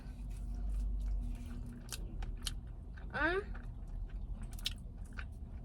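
Someone eats a Giordano's individual pepperoni pizza close to the microphone, with soft wet chewing and small bites over a low background hum and a brief higher squeak partway through.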